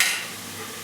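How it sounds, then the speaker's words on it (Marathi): Peanuts frying in coconut paste in a pan, a faint low sizzle with a brief stirring scrape at the start and end. "आता हे व्यवस्थित असं फ्राय होत आहे हा."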